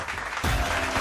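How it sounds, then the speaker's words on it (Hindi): Applause from the audience at a Mathura bhajan competition audition, breaking out loud and dense halfway through after a quieter opening, with no talk over it. "तालियां।"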